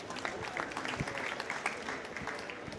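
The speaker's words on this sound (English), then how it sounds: "Please give it a round of applause to Pak Rwanda." At a panel session on biodiversity conservation financing, a room audience gives a short round of applause that sounds quiet and distant, with dense, steady clapping throughout.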